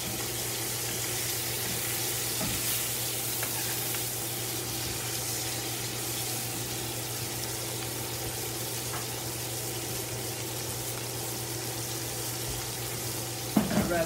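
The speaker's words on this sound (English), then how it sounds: "And just as it's searing, just to kind of baste it a little bit" A filet steak sears in a hot pan while being basted, giving a steady, loud sizzle that runs unbroken throughout, with a brief metallic clatter near the end.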